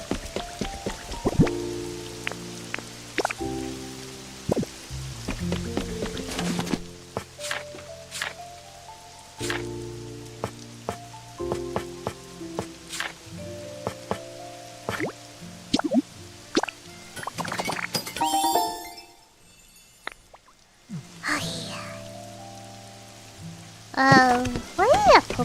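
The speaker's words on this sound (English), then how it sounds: "It's always raining here." Rain falling in a Pokemon-themed crafting game, heard as scattered drips and plops over layered game music tones, with a brief quiet gap near the end before the sounds resume.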